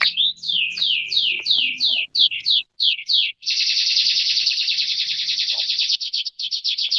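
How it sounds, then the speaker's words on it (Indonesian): Birdsong rings out loud and close in a steady string of rapid, repeated chirps and sweeping whistles, then a long buzzing trill, with no talk. "Ada suara burung ya."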